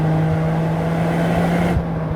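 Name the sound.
Toyota GR Corolla accelerating hard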